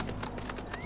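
In the video game Final Fantasy XIV, a riding mount's hooves clip-clop in quick rhythm. They sit within a dense, continuous game soundscape, with no talking.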